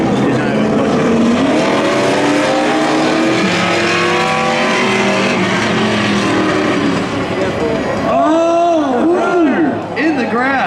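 A Chevrolet Corvette C8 races down a drag strip at a spectator drag racing event, engine roaring loud and sustained before another car sweeps past with a rising and falling pass, with crowd noise and commentary over it.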